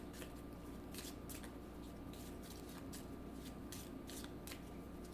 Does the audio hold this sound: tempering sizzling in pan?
no